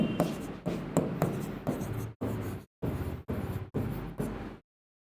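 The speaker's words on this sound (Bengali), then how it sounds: "দেখুন আমি এখানটা লিখছি" A smart pen writing on a board or tablet, heard as a series of close, steady scratchy strokes in short bursts separated by brief pauses, then silence at the end; no talking.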